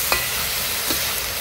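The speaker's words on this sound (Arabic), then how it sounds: "بنحرك" Meat with black pepper and cardamom is stirred in a hot pan for Jordanian sajieh, a steady close sizzle broken by a few soft scrapes of the spoon.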